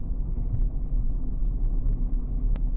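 A car climbs a hill road in first gear, its engine a steady, close, low rumble that holds without change from start to finish.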